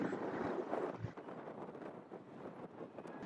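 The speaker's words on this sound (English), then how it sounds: "It's extremely windy, very, very windy indeed." Strong wind batters the microphone outdoors by the roadside tents in Blackpool, a constant rough rumbling buffet that fills the whole stretch without any voices.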